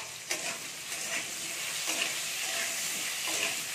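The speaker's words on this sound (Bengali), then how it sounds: "আলুগুলোকে একটু লাল লাল করে আমি ভেজে নেবো" Potatoes fry in a pan with salt and turmeric, giving a steady close sizzle with periodic scraping stirs, and no voices.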